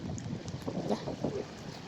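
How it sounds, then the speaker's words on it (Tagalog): Strong wind buffets the microphone outdoors in the Philippines in a steady, rushing roar with gusty swells, no voices. "lakas po ng hangin dito"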